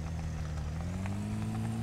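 Car engine running in the video game Unturned II, a steady mid-pitched hum that climbs gradually in pitch as it revs, moderately quiet and continuous with no voices.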